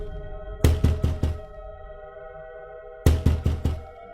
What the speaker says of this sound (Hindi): फिर वह उस घर का दरवाजा खटखटाती है।